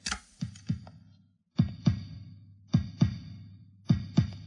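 Heartbeat sound effect in a Kannada comedy film: loud, close paired thumps in a steady lub-dub rhythm, four double beats separated by short silences.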